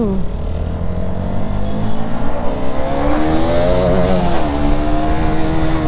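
A motorcycle engine revs and pulls away as the bike is ridden home, loud and close, its rising and falling pitch climbing steadily as it accelerates, with a faint voice briefly under the engine.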